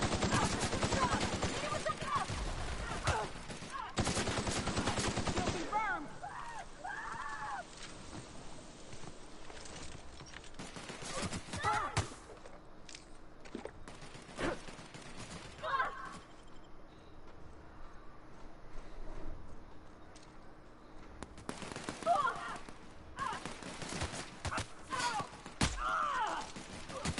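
Sharp, loud sniper rifle shots in The Outer Worlds video game, several separate reports scattered across a stretch of game noise, with a person talking intermittently between them.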